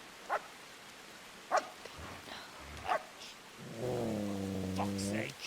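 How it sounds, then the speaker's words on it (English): A dog in Kingdom Come: Deliverance barks three times in short, sharp yelps spaced over a few seconds, then gives a longer, drawn-out tonal whine, all fairly faint against a quiet background. "Oh no, not the dog."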